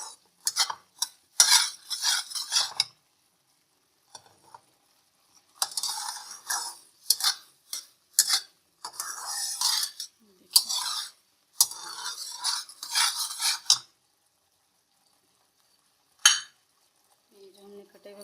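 Almond halwa being stirred and roasted in a pan, a spoon scraping and clinking against the metal in repeated close bursts separated by short pauses, with a faint sizzle and no talking.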